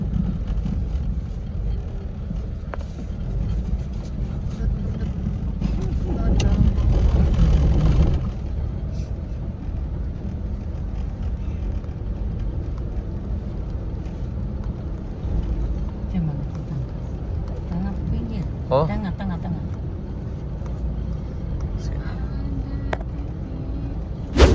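Inside a ferry ship, a constant low engine drone and rumble with wind noise fills the space, swelling briefly louder, as people speak now and then.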